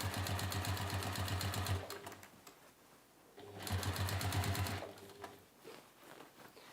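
A sewing machine runs in two fast rattling bursts while stitching a seam on a three-pocket tote bag, pausing quietly between them, close and fairly soft with no voices.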